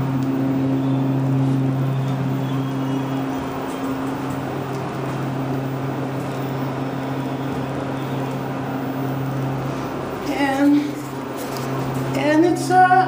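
A 2014 ThyssenKrupp modernized elevator at an apartment complex rides with a steady low motor hum and cab drone, followed near the end by chimes and door or stop noises, while people talk nearby.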